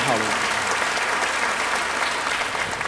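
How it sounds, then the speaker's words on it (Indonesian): A church congregation claps in loud, sustained applause that fills the room evenly for several seconds, with voices faintly mixed in. "Yang percaya beri tepuk tangan yang baik bagi dia."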